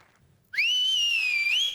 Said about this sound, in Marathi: ही शिट्टी खास खानदेशाच्या सपुतांसाठी होती